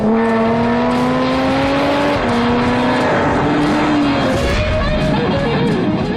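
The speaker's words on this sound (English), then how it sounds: "you engage the sports exhaust system, which makes it even louder" A Jaguar F-Type's supercharged 3-litre V6 roars steadily and loud, close by, its pitch dipping and rising slightly as the sports exhaust rumbles throughout.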